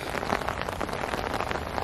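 Rain falls steadily and close by at a day-ticket carp fishing lake at Trent View Fisheries, a dense, even patter of drops with no voices.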